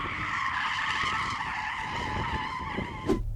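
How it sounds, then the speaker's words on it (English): Mercedes-AMG E63 in rear-wheel-drive mode drifting with smoking tyres, a loud sustained tyre squeal holding steady for about three seconds over engine roar, ending in a brief sharp burst. "The Mercedes has a rear wheel drive mode just like this BMW, so it should be able to do some really nice smoky drift"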